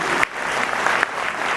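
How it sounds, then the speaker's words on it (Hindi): Loud, sustained applause from a large audience at a satsang gathering at a resort, a dense continuous clatter of many hands filling the space, with no voices over it. "मैं चाहता हूं कि एक बार सबके लिए जोरदार ताली बजा करके सबका"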